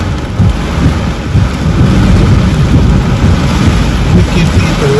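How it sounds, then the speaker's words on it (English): Deep thunder rumbles through a storm, a loud, continuous low roll over steady rain that fills the whole stretch without a break. "We can feel the lightning, thunder, rumble."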